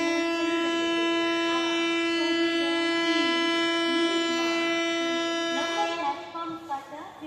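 A train departing a station toward Haldibari sounds its horn in one long, loud, unbroken blast that fades near the end as voices and platform noise come through.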